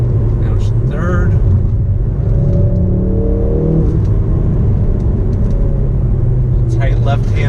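A Ford Focus RS with all-wheel drive runs through a set of bends, its engine rumbling steadily from inside the cabin and rising briefly in pitch as it pulls, while someone talks over it.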